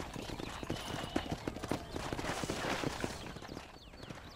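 Horse hooves clip-clopping in a western ranch video game, a busy run of hoofbeats at a steady pace over a dense background mix, moderately close.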